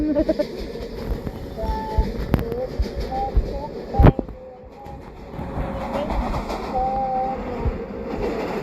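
A train rumbles steadily with a sharp metallic clank partway through, mixed with washing background noise and faint tonal hums.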